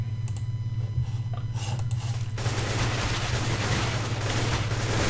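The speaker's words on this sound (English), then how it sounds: "Kind of see a battle of guns going on here." Gunfire crackles in a Counter-Strike competitive match, starting with sparse clicks and shots before a dense, continuous barrage takes over over a steady low hum.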